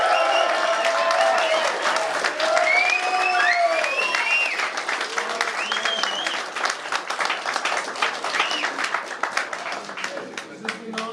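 A crowd at a music store clinic with a guitarist applauds and cheers loudly and continuously, claps crackling under whoops and shouts, close and dense throughout.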